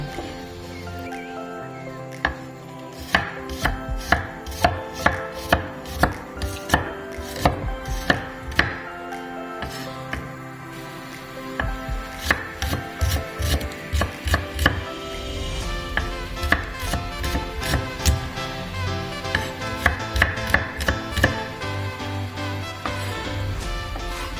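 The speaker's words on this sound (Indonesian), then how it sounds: "Kita iris-iris semua bahan." A knife slices ingredients for water spinach noodles on a cutting board, tapping out quick rhythmic cuts in bursts with a short pause between, close and clear.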